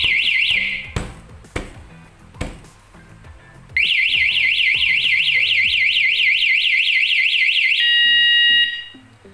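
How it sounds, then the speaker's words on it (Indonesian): A bicycle alarm wails briefly amid sharp taps and knocks, then, under continued vibration, sounds continuously with a rapid warbling siren before changing tone and stopping. "itu alarm akan bunyi terus ya sampai di keterangan nih 30 detik ya"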